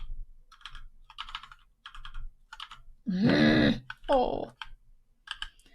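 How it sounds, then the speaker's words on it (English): Clicking computer keyboard keys at a desk during a live coding session, light irregular taps in short bursts, interrupted midway by a loud voice speaking. "that was a typing fail, if there ever was one."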